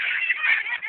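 Fowl honking close by in a brief nasal call while being fed bread by the water.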